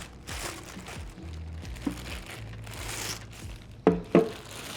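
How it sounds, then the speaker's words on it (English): Plastic wrapping crinkles and rustles as it is pulled off the body and canister of a NutriMill Impact grain mill, a continuous close crackle ending in two sharp tearing snaps. "Let's take them out of their plastic wrapping."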